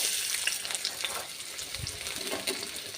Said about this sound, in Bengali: কড়ার মধ্যে তেল দিয়ে দিয়েছি আর এর মধ্যে দিয়ে দিচ্ছি পেঁয়াজ